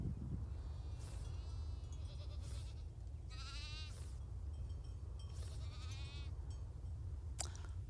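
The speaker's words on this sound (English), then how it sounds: "I'm going to finish these goats" Goats in the video game Farm Together 2 bleat in a series of wavering cries at close range over a low, constant background rumble, ending with a brief sharp click.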